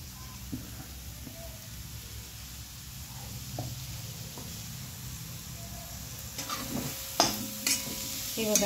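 Grated carrot and beetroot sautéing in a pan, a soft continuous sizzle with a low hiss, then a cluster of scraping stirs and utensil knocks toward the end.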